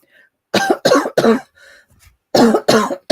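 Several sharp coughs in two bursts, three quick coughs, a short pause with a soft throat noise, then three more, close and loud.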